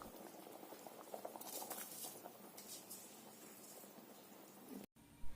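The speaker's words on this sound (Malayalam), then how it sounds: "ഇതിപ്പോൾ ഇവിടെ നല്ലതായിട്ട് തിളച്ചിട്ടുണ്ട്." Liquid at a rolling boil in a cooking pot, just before soaked rice is added for Dindigul Thalappakatti biryani; a steady close bubbling and crackling that continues evenly before a brief cut near the end.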